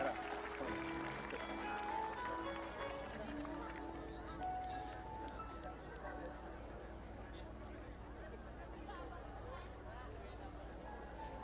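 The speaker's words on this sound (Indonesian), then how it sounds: "Tepuk tangan untuk Dava" Audience applause and crowd hubbub at an Indonesian religious gathering led by Gus Miftah, a sustained dense patter that stays steady and moderately loud throughout, with background chatter mixed in.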